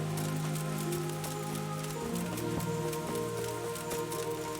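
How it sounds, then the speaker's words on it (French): Steady rain patters continuously over a soft, sustained musical drone in the video game Kingdom Come: Deliverance, with no talking. "Et on a de la pluie."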